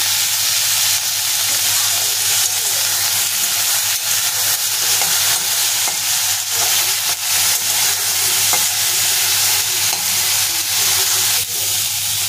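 Kangla fish frying in oil with salt and turmeric, a loud continuous crackling sizzle with steady hiss and occasional stirring noises, close and unbroken, no talk.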